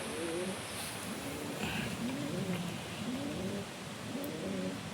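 Racing pigeons in a loft coo softly, repeated low rolling calls in a slow rhythm over a steady background hiss, faint and moderately near.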